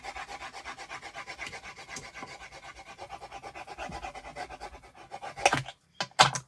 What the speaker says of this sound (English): So let me just give this a good burnish down.